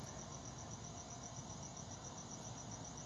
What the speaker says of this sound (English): he's making a little bit of noise with his little tiny wings